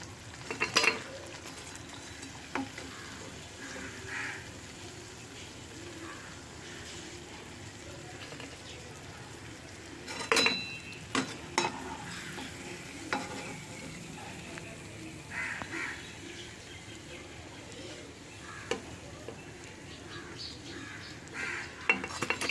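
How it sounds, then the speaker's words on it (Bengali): Bitter gourd leaves frying crisp in oil make a low, continuous sizzle broken by utensil clinks and pan scrapes, with occasional distant crow calls in the background. "আবার এই রকম করেই আমি পরপর সব ভেজে তুলে নেব।"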